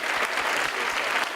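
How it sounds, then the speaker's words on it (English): A high school audience bursts into thick, continuous applause, many hands clapping at once in a dense, even wash that fills the room for the whole moment. "let's give them a round of applause"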